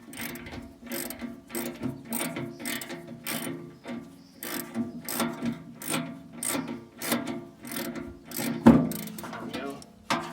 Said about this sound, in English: Get all these bolts out of the fender.